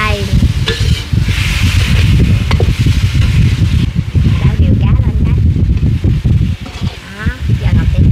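Sea fish is stirred in a hot pan, a loud continuous sizzle with scraping and stirring noises close to the microphone, while a person talks over it throughout.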